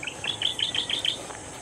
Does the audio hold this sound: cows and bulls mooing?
no